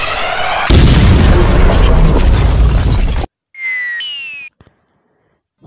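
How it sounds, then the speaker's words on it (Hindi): Cartoon-style bomb blast in a kids' cartoon video game, a loud booming burst lasting a few seconds, then cut off and followed by bright electronic chime-like game effects and a short pop. "इसका भी बम लगा के उड़ाएगा"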